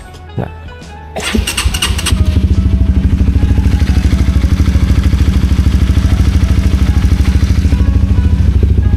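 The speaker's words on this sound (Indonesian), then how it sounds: "ini suara mesin masih enak ya," A motorcycle engine cranks and starts, then settles into a loud, steady, throbbing idle close by.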